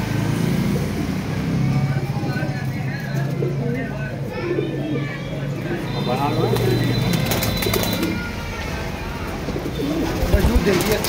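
Pigeons cooing in a bird-seller's yard in a Bareilly neighborhood, a steady chorus of soft low coos close by, with people talking over them and a car passing in the background.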